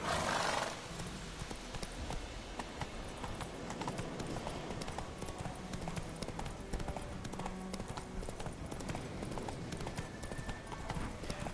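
Rapid, steady hoofbeats of Geralt's horse Roach galloping in The Witcher 3, a continuous clip-clop rhythm running throughout, with a brief whinny at the start.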